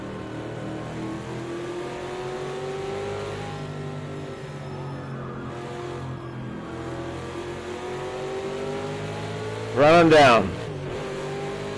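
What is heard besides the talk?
race car engine revving in Project CARS 2 video game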